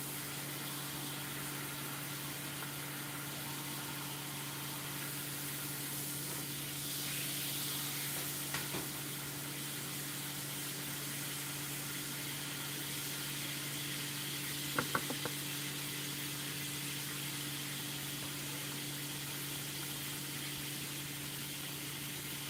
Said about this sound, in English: Get a nice little pan sear on there.